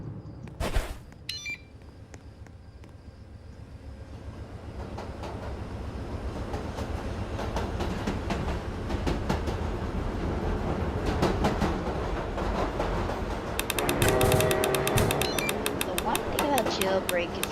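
Roblox Jailbreak game train with an SD40 locomotive rolling past, a steady low rumble with rhythmic clattering and a burst of sharp clicks near the end, while a voice talks over it.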